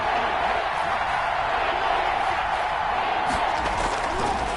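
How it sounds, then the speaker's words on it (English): A stadium crowd in an American football video game roars in a steady, dense wash of cheering ahead of a big third down, with a commentator's voice partly blended in. "the crowd getting into it as we come up on a big 3rd down"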